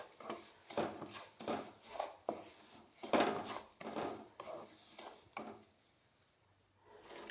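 Semolina roasting in ghee in a pan, stirred with a spoon that scrapes the pan in a steady rhythm of strokes about once per second, each with a soft gritty rasp, fading toward the end.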